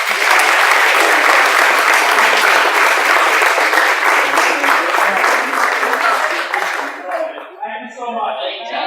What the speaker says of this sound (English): a round of applause for your parents.